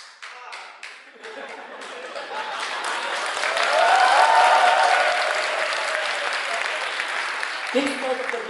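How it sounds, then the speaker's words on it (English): An audience at a tech conference lightning talk claps: a few sharp early claps swell into sustained applause that peaks then fades, with brief speech near the end. "Clap to transmit a bit of noise."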